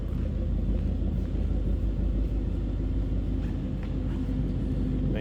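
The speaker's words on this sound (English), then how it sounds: "Nice deep throaty exhaust." A 2011 Ford Mustang Roush Stage 1 idling with a deep, throaty exhaust rumble, steady and close, continuous low growl with no voices.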